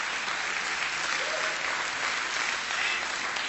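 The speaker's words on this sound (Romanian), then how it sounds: "Very big round of applause for Cristi Kalina." Steady, dense audience applause fills a gala event hall, a continuous wash of clapping hands holding at even volume throughout with no pauses.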